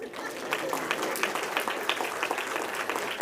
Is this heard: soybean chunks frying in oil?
no